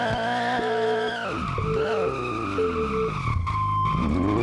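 Continuous loud tire screeching over a revving engine as a car drifts in the video game Need for Speed Unbound. The pitch bends and wavers throughout, with no talking.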